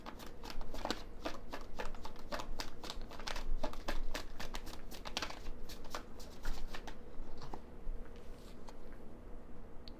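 Tarot cards shuffled by hand in a quick, continuous riffle of crisp flutters and snaps, close and clear, slowing to sparser card slaps toward the end.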